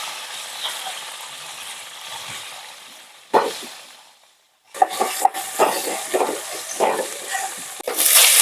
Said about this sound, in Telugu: ఆయిల్ వేడెక్కిన తర్వాత జీలకర్ర, ఆవాలు, మెంతి కూర వేసామండి, కరివేపాకు